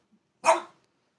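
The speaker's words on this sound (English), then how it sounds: "He's just barking at the back of my head." A single sharp, loud dog bark rings out close by in an otherwise quiet indoor setting.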